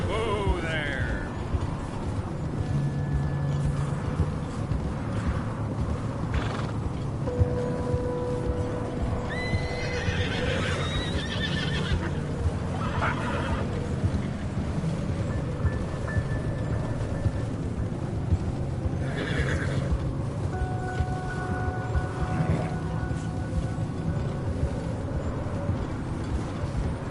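Horses in Red Dead Redemption 2 whinny and neigh several times over steady clip-clop of hooves, with an outdoor ambience and occasional faint background sounds throughout.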